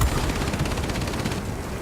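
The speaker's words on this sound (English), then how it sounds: "It will not last long with the turret fire" Turret machine guns on a Douglas A-26B Invader bomber fire a rapid, continuous rattling burst in the flight combat game World of Warplanes, loud and close, tapering off slightly near the end.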